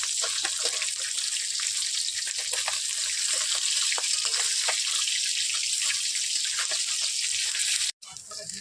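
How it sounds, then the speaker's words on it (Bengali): Small puti fish (pool barb) fry in hot oil in a kadai with a loud, steady hiss and crackle, close by and uninterrupted until a brief cut near the end. "পুঁটি মাছগুলো এবার ভেজে নেব।"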